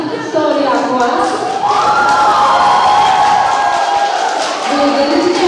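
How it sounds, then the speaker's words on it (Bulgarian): Applause and cheering from a school audience for a second-grade class of children at a school performance, a dense steady crowd noise throughout with some voices mixed in. "аплодисменти за втория клас"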